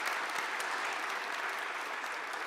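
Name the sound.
round of applause for participants and panelists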